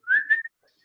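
A person whistles a short rising two-part note in imitation of a teapot's whistle. It is clear and close, lasts under half a second, and is followed by silence.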